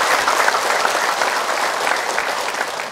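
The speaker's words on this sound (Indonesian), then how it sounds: "Tepuk tangan dulu dong ah." A studio audience at an Indonesian Islamic religious lecture program claps in a dense, steady wash of applause that stays loud and even for three seconds, with no voices above it.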